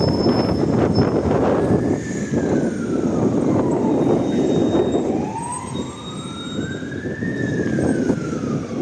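A tram rolls along a busy street in central Lviv, its steady rumbling drive joined by long rising and falling whining tones of the motors, loud and close throughout amid general city noise.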